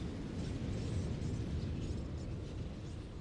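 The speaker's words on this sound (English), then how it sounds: "It's quite the explosion." The Ultima blast in Final Fantasy XIV gives a sustained, deep rumbling roar, a dense, continuous low boom that fills the whole stretch without talk.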